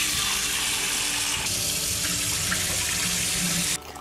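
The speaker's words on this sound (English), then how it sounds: "Let's start with washing the red bean." Red beans are washed under a running kitchen tap, with a steady loud gush of water splashing into a bowl in the sink that stops abruptly near the end, and no voices.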